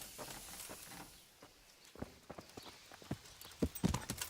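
Horse hooves clip-clop in the medieval video game Kingdom Come Deliverance, a steady walking rhythm of sharp knocks that grows louder and closer toward the end over a faint ambient bed.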